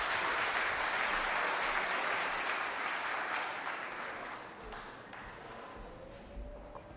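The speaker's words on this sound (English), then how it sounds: "Give her another round of applause" An audience at a farm industry awards ceremony gives a round of applause that starts loud and dense and then thins and fades toward the end, with scattered claps left at the close.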